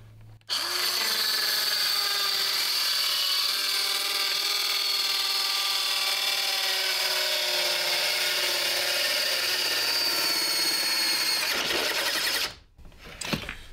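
A Parkside PHKSA 12 B3 cordless circular saw cuts through a wooden plank with a loud, steady high whine that holds for about twelve seconds. It then winds down and stops, ending with a few small knocks.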